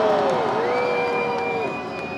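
A large midweek crowd of 10,000 or more at Groundhog Day in Punxsutawney, heard as a loud, steady wall of cheering and whooping with scattered whistles that holds for about two seconds.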